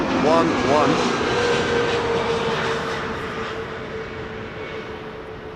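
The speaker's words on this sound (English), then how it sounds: "It's a 747-400 freighter." A Boeing 747-400 freighter arriving at Schiphol from Nanjing, its engine roar loud at first and then slowly fading, with a few brief tones rising and falling early on.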